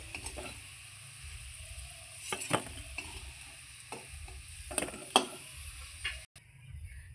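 Potato pieces fry in oil in a home kitchen, a quiet steady sizzle with occasional scrapes and stirring clinks of a spatula in the pan.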